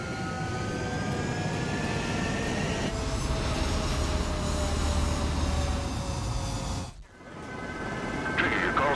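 Fighter jets roar down the runway on takeoff in the Ace Combat 7 flight combat game, a loud sustained engine rush with rising whine tones that briefly dips near the end before swelling again.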